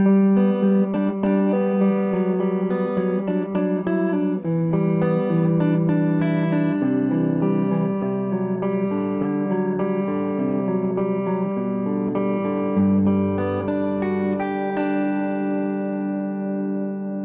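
An electric guitar plays through the fat channel of an Orange Dual Terror amp and cabinet, clean to slightly driven chords and picked notes ringing with chime and body, loud and continuous with no talking.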